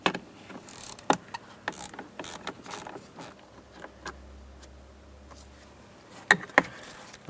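Ratchet working a bottom bolt loose on the rear HVAC box of a 2008-2016 Chrysler minivan, scattered close clicks and short bursts of ratcheting with handling noises and pauses between.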